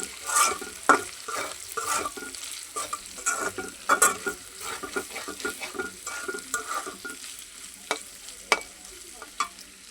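Eggs stirred and fried in a pan sizzle softly as a utensil scrapes and clinks against it in quick irregular strokes, close by with no talking.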